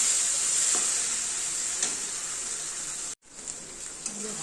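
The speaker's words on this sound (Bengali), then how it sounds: "কচুর লতি ভাজা হয়ে গেছে" Taro stolons (kochur loti) frying in oil in a pan give a steady, close, bright sizzle throughout, with occasional stirring scrapes and a brief dropout near the end.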